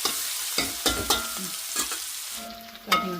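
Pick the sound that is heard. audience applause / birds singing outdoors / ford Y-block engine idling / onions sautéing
onions sautéing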